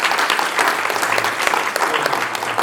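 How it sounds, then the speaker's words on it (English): Loud, dense applause from the audience at a university public speaking championship, greeting judge Emmanuel. It is a steady wash of clapping, close and continuous, for a couple of seconds with no talk over it. "Can we get a round of applause for Emmanuel?"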